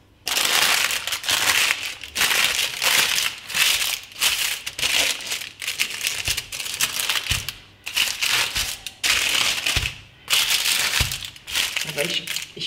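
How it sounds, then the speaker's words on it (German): Baking paper is peeled away from a crusty no-knead bread loaf fresh from a Tupperware Ultra oven dish, loud crinkling and crackling bursts coming in repeated waves with short pauses between. "Und jetzt entfernen wir das Papier."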